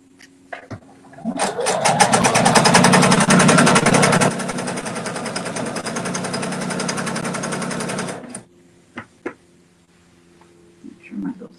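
A sewing machine runs a narrow seam through placemat fabric, a close mechanical whir with rapid needle ticks for several seconds that eases slightly midway before stopping, followed by a few small clicks and handling noises.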